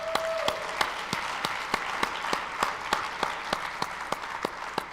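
An audience at a business seminar session applauds in a sustained wash of clapping, with a single clap standing out at a steady rhythmic beat throughout and a short tone at the very start.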